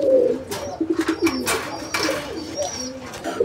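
Pigeons at a pigeon market cooing in repeated soft, throaty bursts close by, with a faint murmur of people in the background.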